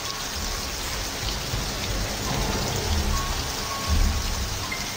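Steady moderate rain falls continuously, a dense hiss of drops on surfaces with slight swells in intensity and no voices.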